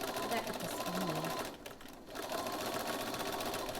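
A home sewing machine stitches steadily with a fast, even mechanical whir that pauses briefly midway before resuming, running alone without talk.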